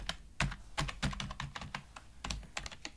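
Quick, uneven keystrokes on a computer keyboard as a word is typed during an HTML coding tutorial, close and clear, no speech.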